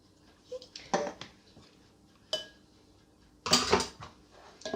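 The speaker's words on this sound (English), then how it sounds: "Just give it a whisk." Coconut cream with vanilla essence is whisked in a bowl for a vegan, gluten-free pecan pie, heard as scattered metallic clinks and scrapes against the bowl in short bursts, louder toward the end.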